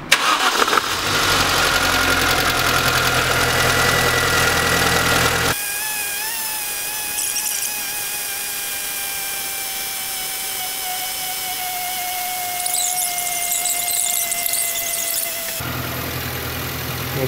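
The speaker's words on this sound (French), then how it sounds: "je vais mettre le moteur en route" A car engine cranks, squeals and catches, then settles into a steady idle with heating fan running, during a coolant purge with the heater on full; continuous, close and fairly loud, with no talk.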